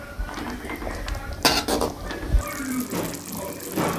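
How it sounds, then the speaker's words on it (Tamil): A spoon stirring tomato pickle in a cooking pan gives metal scrapes and clinks, one sharp knock near the middle, all close and fairly loud over a low background. "அப்பப்போ நல்லா கிளறி விட்டுக்கோங்க."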